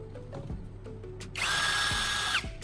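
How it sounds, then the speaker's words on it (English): A power drill spins a carbon rod tip held in its chuck, a loud, steady whir lasting about a second after some quieter handling noises. "To make our carbon rod tip precise and effective, I'm securing it into a drill chuck."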